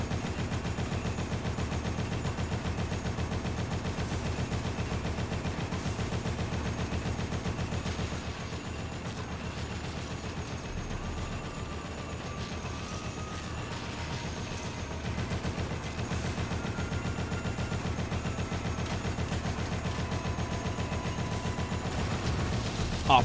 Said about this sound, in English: He keeps shooting in the area.